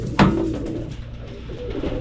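Domestic pigeons kept for raising give a single soft, low coo close by, a brief throaty call followed by a steady murmur of background noise.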